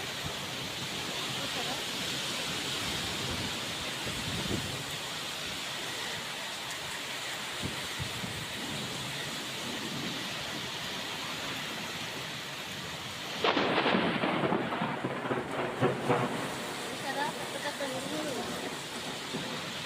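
Heavy rain pours steadily during a sudden storm in Vijayawada, with a low distant thunder rumble early on and a louder, closer crack of thunder breaking over the hiss partway through.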